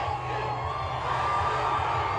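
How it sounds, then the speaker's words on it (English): A huge crowd at the Oklahoma City Thunder's first NBA title victory parade roars and cheers continuously, with whoops and children's shouts blending into a loud, sustained wall of noise. "Oh, the crowd is going crazy."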